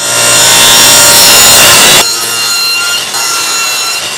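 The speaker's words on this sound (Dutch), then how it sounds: "Ik ga het onder verstek zagen" A hand saw cuts through wood at a miter angle while a cutlery tray is being made, giving a loud, steady rasping that runs for about two seconds before dropping to quieter strokes.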